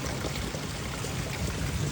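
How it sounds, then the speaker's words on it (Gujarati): Continuous heavy rain falls on a flooded street at night, with water rushing and streaming in a steady, close, unbroken wash of noise. "વરસાદ કન્ટિન્યુ ચાલુ વરસાદ છે જોઈ લો અવાજ આવતો હશે"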